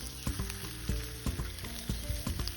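Onions frying in olive oil in a pan, a close, steady sizzle with regular scraping strokes as they are stirred, no voices.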